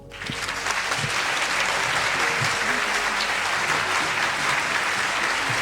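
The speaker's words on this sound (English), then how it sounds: "Another round of applause" An audience applauds warmly after a spiritual talk, a dense, steady wash of clapping that swells quickly and holds for several seconds with no voices.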